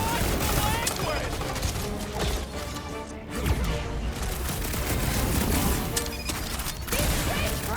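Heavy gunfire and crashing impacts in combat from the Guardians of the Galaxy video game on PS5, dense sustained bursts with mechanical clatter filling the whole stretch, loud and continuous.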